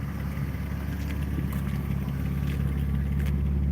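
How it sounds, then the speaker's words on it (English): A BMW E36 engine runs steadily at idle, a low, even rumble heard close by with faint clicks and knocks on top. "You can hear the engine. See, once she's running, she just sounds good."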